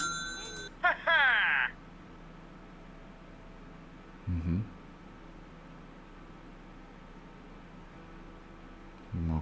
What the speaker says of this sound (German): Das Telefon läutet.